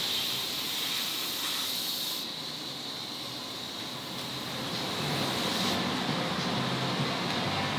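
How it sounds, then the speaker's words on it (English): Boiling-hot fluid hisses steadily on a radial-tire race car, a continuous broad airy sizzle close by that swells and eases slightly for several seconds with no talk. "I very much heard boiling fluid"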